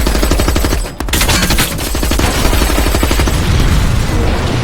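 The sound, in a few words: gunfire in the film The Berlin File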